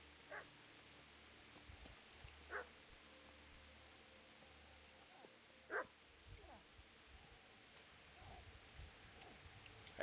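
A dog barks in the distance in Kingdom Come: Deliverance, a few faint, sharp yelps scattered over a quiet, low ambient hum, with one stronger bark near the middle.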